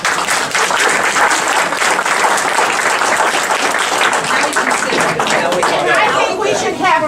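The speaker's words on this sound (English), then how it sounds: "I think we should have a round of applause for our moderator." An audience at a League of Women Voters aldermanic forum breaks into loud, sustained applause, dense clapping from a large crowd lasting throughout, close and full, mixed with murmured chatter.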